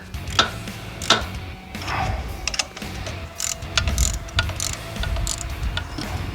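A ratchet with a 5/16 socket tightens bolts on a Craftsman DRM500 string trimmer, giving quick runs of clicking pawl ticks and small metallic knocks up close, irregular bursts separated by brief pauses.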